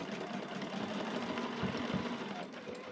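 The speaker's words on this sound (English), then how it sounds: "And then I'm just going to stitch straight across that." A sewing machine fitted with a zipper foot runs a straight stitch across minky fabric for a zippered pillow back, giving a steady mechanical whirr with a faint rhythmic knock and no pauses.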